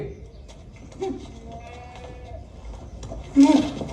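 A goat bleats briefly in a jail scene in a Hindi film, one short cry rising near the end over a muffled background.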